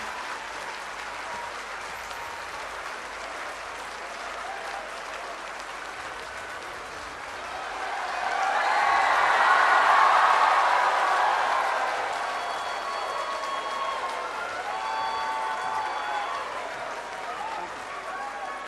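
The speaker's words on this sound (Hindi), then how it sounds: "तो चलिए अब ये फाइनल वाली ताली हो जाए।" An audience welcomes an author and teacher onto the stage at a public event with sustained applause. The clapping swells to a peak midway and then continues more softly, with some voices heard in the hall.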